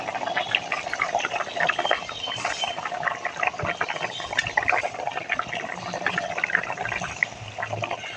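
Fish curry broth bubbles in a pot, making a steady crackling simmer of small pops and bubbling that runs at moderate loudness the whole time.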